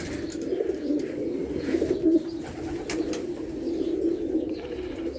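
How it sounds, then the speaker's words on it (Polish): Pigeons coo softly and continuously nearby, their low murmuring calls overlapping, with faint rustling in the background. "Gołębie są karmione, pojone."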